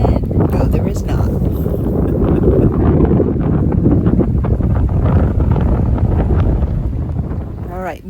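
Wind buffets a microphone beside a river along a Connecticut state park shoreline, a loud, steady rumbling roar that stays constant throughout with gusty low-end thumping and no break.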